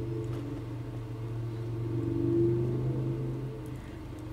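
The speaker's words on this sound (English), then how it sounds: "That motorcycle is so freaking loud." A motorcycle engine in the video game Resident Evil 2 Remake drones at a steady low pitch, rising briefly as it revs, loud and close with no voices.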